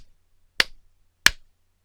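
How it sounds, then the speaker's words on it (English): Two sharp, loud hand claps sound close to the microphone, evenly spaced and separated by clean silence. "clapping 3 times loudly near the mic"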